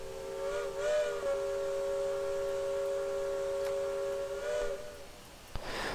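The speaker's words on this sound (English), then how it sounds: "So the whistle sounds, it sounds great." A long, steady whistle of a Skookum 2-4-4-2 steam locomotive in Trainz 2019 sounds its chord for several seconds, then cuts off, leaving a soft hiss and a faint thump.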